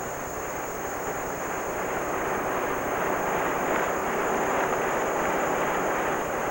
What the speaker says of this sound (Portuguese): Aos 120 quilômetros por hora, o vento torna difícil a respiração e impossível o equilíbrio.